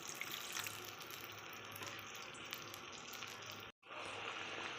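Water poured into a simmering rui fish curry in a pan on a gas stove, a steady faint splashing and hissing stream that cuts out abruptly near the end and then resumes as a quiet bubbling.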